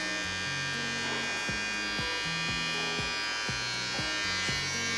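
Electric dog hair clippers buzz steadily and close up while trimming a West Highland White Terrier, with a low melodic tone pattern stepping underneath the constant high whine.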